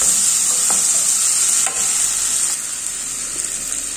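Vegetable curry frying in a pan gives a steady loud sizzle, with a few scraping stirs of a spoon breaking through the hiss and no voices.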